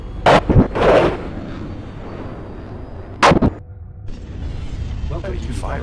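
Gunfire in the space combat game Star Citizen Arena Commander: a few loud, close bursts of shots separated by pauses, with a low mechanical hum beneath and players talking in between.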